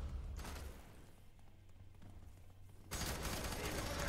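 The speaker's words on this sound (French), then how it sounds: "Mec, je te tire un chargeur dessus." Automatic gunfire from a magazine being emptied in the shooter game F.E.A.R. 3, a dense crackling burst at the start, a quieter stretch, then a louder sustained volley near the end.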